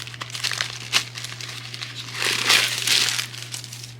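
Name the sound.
removing paper stuffing from Bottega Veneta handbag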